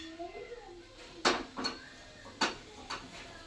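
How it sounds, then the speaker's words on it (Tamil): Egg fried rice scraped and spooned from a kadai into another bowl: a few sharp metallic scrapes and knocks, spaced irregularly, close and moderately loud over a quiet kitchen background. "இப்போ நம்ம இதை வேறு பவுலில் மாற்றிக்கலாங்க"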